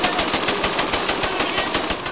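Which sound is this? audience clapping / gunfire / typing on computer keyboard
gunfire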